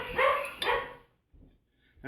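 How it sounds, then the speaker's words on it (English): A dog gives two quick, sharp barks close by, followed by faint quieter sounds and near silence. "that's my dog"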